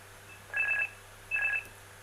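A mobile phone rings while muffled inside a pocket, two short bursts of warbling electronic ringtone, fairly faint and dulled, separated by a brief pause over a low steady hum.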